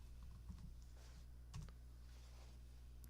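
Faint keyboard typing in a quiet room, a few soft keystroke clicks spread over a steady low hum with no talking.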